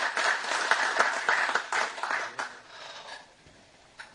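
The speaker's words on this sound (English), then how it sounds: "Let's hear a louder round of applause for our Chief Minister." A crowd applauds at a Chamber of Commerce inauguration in Panjim, Goa, greeting the Chief Minister with steady, dense clapping that gradually thins and fades toward the end.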